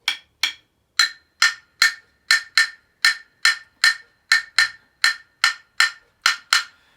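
Wooden non-tuned percussion instrument struck with a stick: a steady series of about seventeen crisp, dry taps, close and clear with silence between them.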